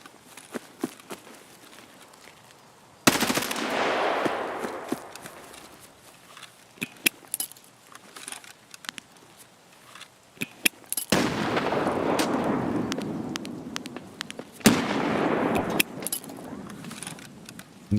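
Sniper gunfire in a video game, with a few loud sharp shot bursts that ring out and fade, separated by quieter clicks and rattles in between.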